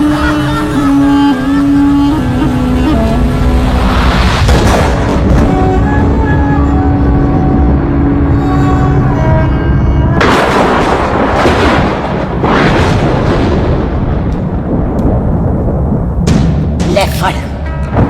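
Gunfire rings out in a Hindi action film scene, with loud bursts and booming shots over a dramatic music score, building into heavy repeated blasts in the second half.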